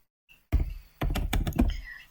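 Several quick keystrokes on a computer keyboard, a soft tap then a brief burst of clustered clicks, close and moderately loud with no talk.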